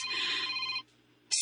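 A telephone rings in a bright, steady electronic tone for nearly a second, then stops briefly before starting again at the end, with no voices over it.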